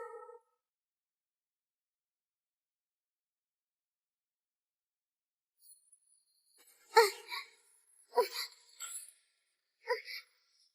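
A cat lets out several short, close meows in a broken cluster after a long silence, with a brief faint sound at the very start.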